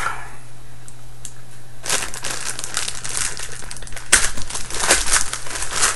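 Plastic packaging crinkling and crackling as a Pearl Demon Drive double bass drum pedal is cut free, starting quietly and then turning into loud, close rustling with sharp cracks.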